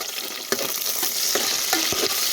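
Green chillies fry in a hot pan with onions, giving a dense, constant sizzle punctuated by quick scraping strokes of a spatula at a regular pace.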